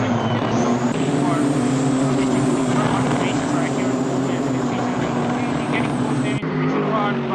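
GT3 race cars circling Suzuka in a racing game, their engines blending into a steady, loud, high-pitched drone. A commentator talks over the noise throughout, and the engine note shifts abruptly near the end.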